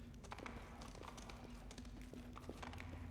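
A horse's hooves clop in a steady, rhythmic gait in the Pathfinder video game, fairly quiet and mixed with a sustained low musical tone and soft ambient background.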